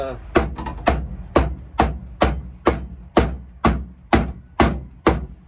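A hammer strikes bare steel body panel on a 1989 Mustang GT to flatten a bulge, giving about a dozen sharp, ringing metallic blows at a steady, even rhythm, close and loud, each decaying quickly before the next.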